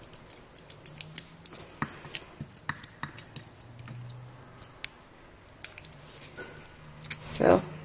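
A mixture of clay and water, bentonite, rhassoul or kaolin, is stirred by hand, giving soft wet scraping and squishing with sharp little clicks of utensil against container and a brief louder scrape at the end.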